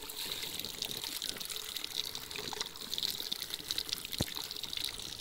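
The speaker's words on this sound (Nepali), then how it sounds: "यो नि राम्रै आउँदो रहेछ पानी त यार।" Water from a rocket-style shower head streams and splashes steadily, a close, continuous hiss and patter that holds at an even level throughout with no other sounds on top.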